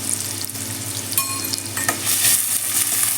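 Thinly sliced onions hit a pan of fried cumin seeds with a loud, close sizzle. It hisses steadily, with a few sharper pops and a brief surge of crackling near the end.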